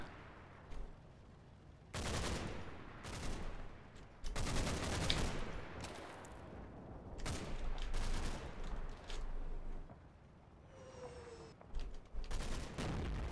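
Mortar and gunfire in the WWII strategy game Combat Mission: Battle for Normandy, heard as repeated heavy booming bursts and rattling volleys separated by brief lulls.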